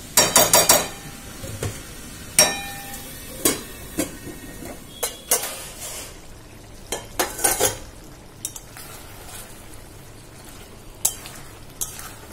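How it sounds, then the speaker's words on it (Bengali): Food is sautéed in a pan with a spatula, producing repeated sharp scrapes and knocks against the metal over a soft, steady sizzle, loud and close with irregular pauses. "চলো ঢাকা দিয়ে দিয়ে একটু কষতে থাকি।"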